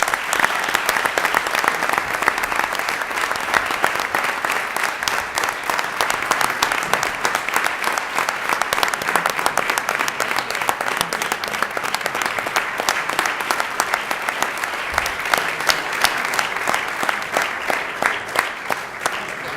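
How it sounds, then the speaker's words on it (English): A crowd at a city council meeting in Elmhurst applauds honored guests, a steady, dense clapping that holds for the full stretch without letting up, with a faint voice or two beneath it. "let's have a round of applause for the best of the best"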